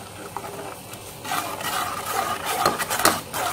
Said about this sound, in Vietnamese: khuấy đều